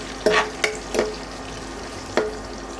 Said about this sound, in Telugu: రెండు పచ్చిమిరపకాయలను చీరికలుగా కట్ చేసుకుని వేసుకోవాలి ఇప్పుడు వీటిని కూడా కాసేపు వేగనివ్వాలి